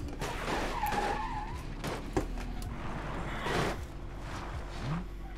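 Video game car braking hard into a skid, tires squealing and scraping over a steady engine drone, with a couple of sharp clunks along the way.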